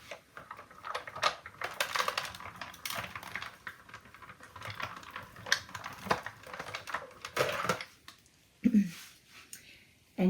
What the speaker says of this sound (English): we are going to use our die cutting machine and get this die cut.